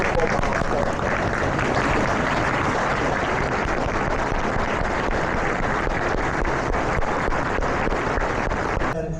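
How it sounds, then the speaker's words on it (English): An audience at an attorney admission ceremony applauds, a dense, sustained wash of many hands clapping that stays even and continuous throughout. "give your family and friends a round of applause"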